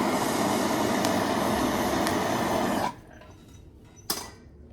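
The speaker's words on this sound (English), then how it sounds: "now I'm going to give it one more little go with the torch" Torch flame heating a pottery bowl roars loud and steady for about three seconds, then cuts off abruptly, leaving quiet with one sharp click near the end.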